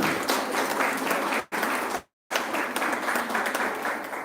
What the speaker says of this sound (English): So have a huge round of applause for Sir for gracing this occasion.